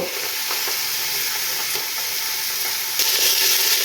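Chicken pieces sizzle loudly in a pan over lightly fried onions, a steady dense hiss that swells slightly near the end, with faint stirring.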